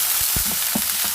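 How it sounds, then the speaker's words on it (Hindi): Chicken pieces fry in hot oil, a close continuous sizzle with a few soft pops and stirring knocks, heard alone. "तो इस ऑयल हमारा अच्छे से गर्म हो चुका है। अब हम इसमें अपने चिकन डाल दें।"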